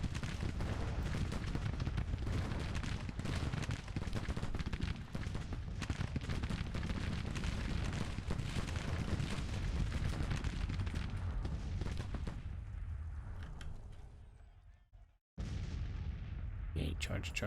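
Cannons and rifle fire in an American Civil War-era battle in the strategy game Grand Tactician, a dense, continuous roar of booms and crackling volleys that thins out and briefly drops to silence near the end.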